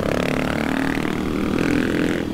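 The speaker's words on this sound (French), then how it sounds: "on l'a fait monter en régime là" A KTM 500 EXC-F dirt bike engine revs steadily at high pitch, a continuous buzzing roar held for a couple of seconds.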